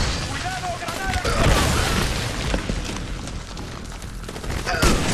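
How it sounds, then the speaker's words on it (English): Grenade blasts and rattling gunfire in the video game Army of Two: The Devil's Cartel, a loud, dense barrage of booms and bursts running through the whole stretch with a sharp blast near the end, voices shouting over it. "Grenade out, bitches!"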